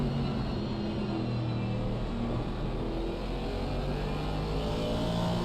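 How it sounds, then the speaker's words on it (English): A turbocharged V8 GT3 race car at Indianapolis in Assetto Corsa Competizione drones steadily at high revs, its engine note rising and falling in a close, continuous roar. "Don't you love the sound of that roaring V8?"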